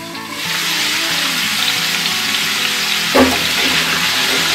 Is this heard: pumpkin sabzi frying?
yes